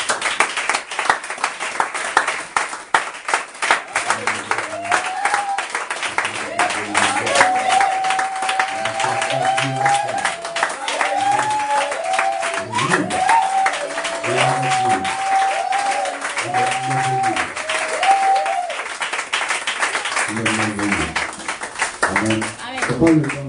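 A church congregation at a Sunday service claps steadily and loudly, the rhythmic applause carrying on throughout while a singing voice rises and falls over it.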